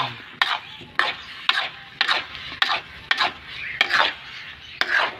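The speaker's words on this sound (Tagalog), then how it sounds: "Napapaikot na natin yung kawali." Sticky food being stirred in a frying pan (kawali), with regular scraping strokes of a utensil against the metal pan, about one per half second, loud and close.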